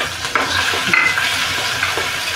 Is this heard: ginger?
yes